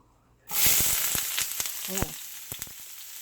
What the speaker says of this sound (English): saute my onions.